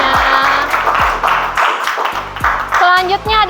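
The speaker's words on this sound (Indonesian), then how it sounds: "Tepuk tangan teman-teman semuanya" Students in an Indonesian classroom clap together in a short burst of rhythmic applause, close and loud, with children's voices chattering over it.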